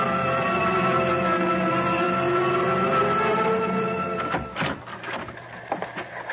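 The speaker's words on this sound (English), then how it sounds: "Johnny, I've been staring at that teletype machine out there until I can't see straight." A teletype machine in a radio drama clatters: a steady mechanical hum gives way to a burst of rapid, uneven typing clacks toward the end, close and moderately loud.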